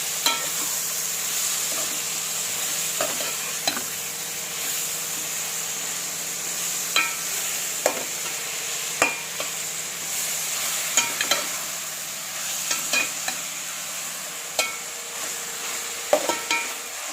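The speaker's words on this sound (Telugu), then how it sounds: "ఇట్లా వేసేసి మంచిగా మొత్తం కలిసేటట్టు కలపండి." A spoon stirs gongura prawn curry in a pan, making irregular sharp clicks and scrapes against the metal at close range over a faint, steady sizzle, with no voices.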